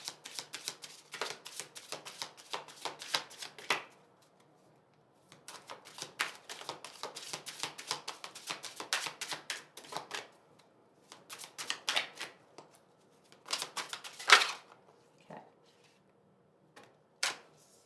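Tarot cards riffled and shuffled in bursts of rapid crisp flicks with short pauses between, then a few single snaps as cards are drawn, close and quiet without speech.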